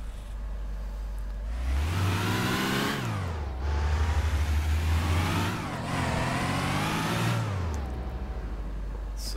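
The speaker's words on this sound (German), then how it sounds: "wir gehen mal rein und versuchen mal mit dem Wagen einfach mal normal zu fahren" Nissan Silvia S14 engine in the City Car Driving game, revving up in three rising and falling sweeps as the car pulls away and shifts, steady and close with no talking.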